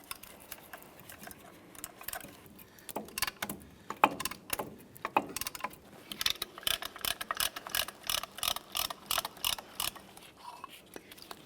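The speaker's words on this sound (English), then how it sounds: "Slide our tool in here and start compressing those pistons." A ratcheting caliper piston compressor tool works on the front brakes of a 1999-2006 Chevrolet Silverado 1500, with close repeated clicking and metallic ratchet strokes in irregular bursts that grow quicker and denser toward the end.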